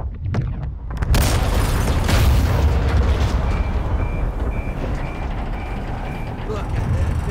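A massive explosion in Call of Duty Modern Warfare 2 bursts with a deep, loud boom and then rolls on as a long rumble. Repeated beeping sounds through the dense low roar that follows.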